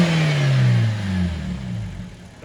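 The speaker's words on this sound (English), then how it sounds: "give it a bit of a rev," A BMW 1 Series drift car engine revs with the airbox lid off, one loud rising and falling blip with strong intake roar, close and alone, settling back toward idle.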